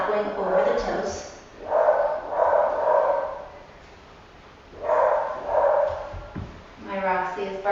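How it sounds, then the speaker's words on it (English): A pet dog named Roxy barks downstairs in a house, the muffled bursts coming in a few clustered bouts from a distance, sitting under and between steady speech. "My Roxy is barking downstairs."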